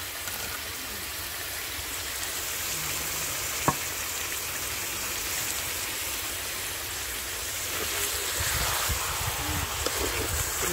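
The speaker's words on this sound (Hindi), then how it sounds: "तो जो है चिकन इसको मैंने डाल दिया, इसको फ्राई करेंगे" Chicken pieces frying in a small pan with onions for chicken karahi, a steady broad sizzle running throughout at moderate level, growing slightly louder near the end with a single sharp click partway through.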